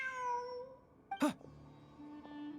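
A cat in the video game Genshin Impact gives a single short meow, fairly loud and close against a quiet ambient music bed, with soft game tones continuing after it.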